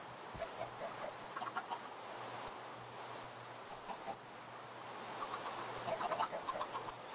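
Minecraft chickens cluck repeatedly in short bursts over a steady low hum and soft background wash, louder toward the end.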